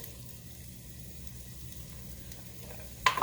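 Garlic sizzling in a pan for chicken macaroni soup, a soft steady hiss throughout that ends in a sudden louder clatter near the finish.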